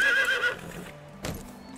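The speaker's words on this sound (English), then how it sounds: "let's call the horse over" A horse in the medieval farming game Medieval Dynasty gives a short, close whinny, followed by a few soft hoof clops and a faint thud.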